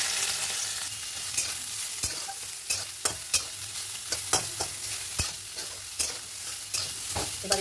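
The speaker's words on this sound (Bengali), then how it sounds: "সোয়াবিনটা তেলে ভাজবো।" Soybean chunks fry in oil with a steady sizzle, broken by repeated sharp scraping and stirring knocks at an uneven rhythm, close up.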